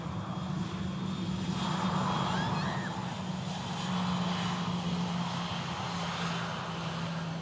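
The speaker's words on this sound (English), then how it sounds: "Just throttling down on them CFM engines." Airliner with CFM jet engines throttling down near Manchester Airport, a steady loud broadband roar with a low engine hum that swells and eases slightly throughout, heard close and continuous with no talk.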